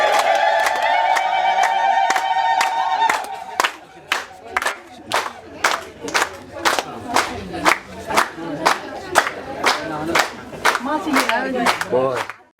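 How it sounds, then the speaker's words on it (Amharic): Crowd at a celebration ululating together in a sustained high trill for about three seconds, followed by a long run of sharp, evenly spaced claps or beats with cheering, loud and close throughout. "እልል በሉ እልል በሉ።"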